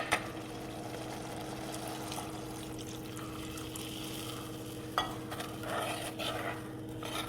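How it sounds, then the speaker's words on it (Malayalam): Water is poured into a cooking pan holding kudampuli and rock salt for a sardine chilli curry, giving a steady, even rushing splash throughout, with a brief louder burst near the end. "ഞാൻ ഇതിലേക്ക് ഇച്ചിരി വെള്ളം ഒഴിച്ച് കൊടുക്കുന്നുണ്ട്."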